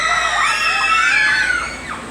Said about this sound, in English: Lord, these kids are screaming.